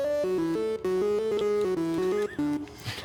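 Default triangle-like instrument in the Dreams game on PS4, playing a short melodic run of clear pitched tones with a soft bell-like ring, one note after another, alone and fairly close.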